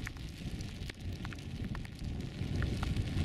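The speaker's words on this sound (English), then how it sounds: "Oh, it's raining now." Rain begins falling on open moorland during a wild camp, a soft steady patter and crackle of drops that grows denser toward the end, with no voices.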